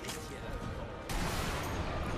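A sniper rifle fires in the video game Sniper Elite V2, a single sharp report near the one-second mark that lifts the level amid dense, continuous game noise, with no talk.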